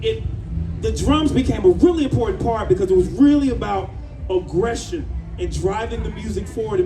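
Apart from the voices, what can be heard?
No distinct noise like a dog, phone or traffic.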